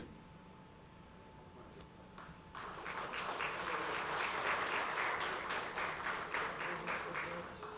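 Applause at a formal ceremonial session for an honoree marking a sports club's centenary; faint room tone and a few early claps swell into sustained, even clapping from a seated crowd that continues to the end.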